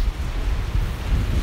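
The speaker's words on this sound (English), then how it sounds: "it's very windy and damp" Strong wind at a damp beach, a steady loud rushing roar buffeting the microphone with a low rumble, with no voices.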